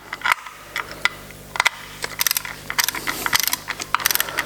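A ratcheting wrench tightens bolts on the timing chain of a BMW X1, giving loud rapid bursts of clicking pawl ratchets in uneven runs with brief pauses.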